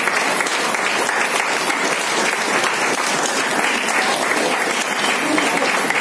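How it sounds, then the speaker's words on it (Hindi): Steady, dense audience applause at a Women's Day celebration, many hands clapping continuously at an even level for the whole stretch with no pause. "जोरदार ताली होनी चाहिए"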